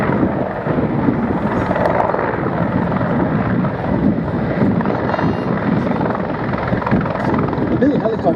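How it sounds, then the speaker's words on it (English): A Soviet-era Mil helicopter of the Czech Air Force at an airshow gives a loud, steady, broadband rotor and turbine roar that stays constant throughout, with faint voices under it. "The Mill helicopters now amongst the last of the old Soviet era designs still in service with the Czech Air Force."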